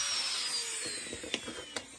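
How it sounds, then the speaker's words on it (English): A power drill runs with a falling whine, then a few sharp clicks and knocks as it works on a mount for a taxidermy chickadee, close and alone. "I think I better go back to the drill."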